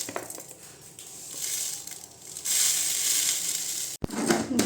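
Broken rice grains pour into a tin in a steady rattling stream, growing louder and denser partway through, with a short sharp knock near the end.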